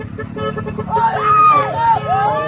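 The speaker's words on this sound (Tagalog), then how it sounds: "Ang galing ng busina, no?" A car horn honks near and loud, a few drawn-out tonal blasts riding over background voices and street babble.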